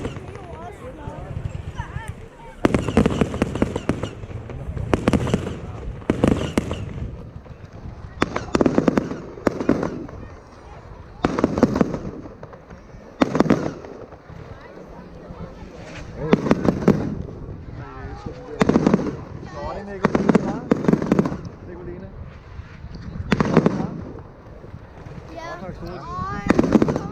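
Fireworks show explosions sound as repeated loud bangs and crackling bursts at irregular intervals, with people talking between them.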